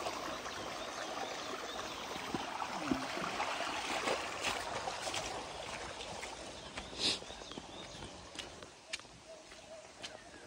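Spring water running out of a pipe on a mountain trail, a steady trickling and splashing stream heard fairly close, with occasional clicks and a few faint voices around it.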